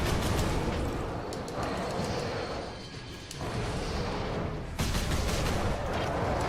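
Dense, continuous gunfire and explosions from a Warhammer video game as an Ultramarine shoots, loud and layered, with a short lull midway before the barrage resumes.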